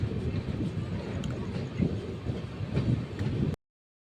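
The 12786 Kacheguda SF Express rumbles steadily along its rails at a slow cruise on a suburban stretch between Bangalore and Hyderabad. The low, continuous roll carries faint clacks and wind buffeting, then cuts off abruptly near the end.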